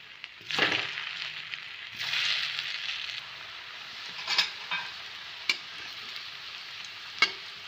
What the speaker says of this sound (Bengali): তেল গরম হয়ে গেছে, এবার আমি ধোকাগুলো ভেজে নিচ্ছি।